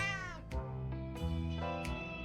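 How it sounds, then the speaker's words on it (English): Cat meowing in the video game 60 Seconds: several drawn-out, close meows in a row, loud and clear, with no talking over them. "I got a fucking cat?"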